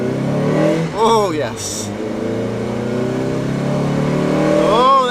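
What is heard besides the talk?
Mazda MX-5 roadster engine revving on country lanes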